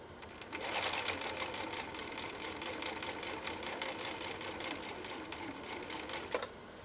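A 1960s Husqvarna Viking 6440 sewing machine, recently repaired with new parts and adjustments, runs a decorative stitch in a steady rapid needle rhythm, close and fairly loud, holding pace throughout with a slight clack near the end.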